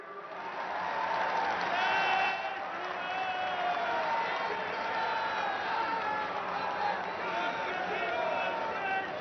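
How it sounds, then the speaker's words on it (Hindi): An audience claps and cheers at a public development-project event in Jind, Haryana, with sustained, even applause under a loud amplified announcer's voice. "तालियों का जय घोष रुकना नहीं चाहिए"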